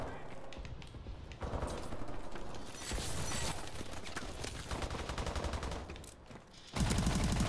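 Rapid gunfire from weapons in a multiplayer shooter video game, with dense bursts of automatic shots and mechanical clicks that swell and ease over several seconds at moderate loudness, mixed with background voices.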